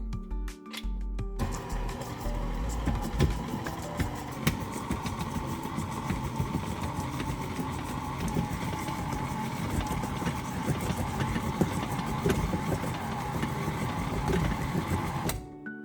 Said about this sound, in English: And we're just going to mix that together. Going to mix on low.